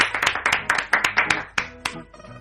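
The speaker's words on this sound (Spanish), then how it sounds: "Lo recibimos con un fuerte aplauso." Studio audience applause greets actor Jorge Román as he joins a talk-show interview, a loose burst of individual hand claps, close and moderately loud, thinning out toward the end.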